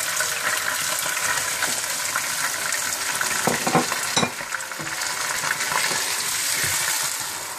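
Chicken frying with yogurt and onions in a pot for degi biryani, a steady loud sizzle with scraping stirs and a few clinks near the middle, no talking.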